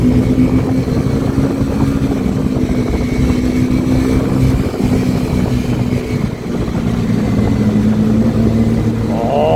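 A motorcycle engine drones loudly and steadily during a ride, with a constant low hum and road noise throughout and no speech.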